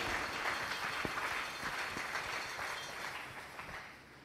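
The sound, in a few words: congregation applauding in church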